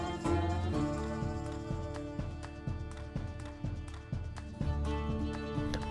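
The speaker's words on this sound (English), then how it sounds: "Definitely wanna have horses on this farmyard." Horses on a farmyard in a farm-building video game, rhythmic hoof clip-clops over a steady music bed with tonal notes, moderately loud and continuous.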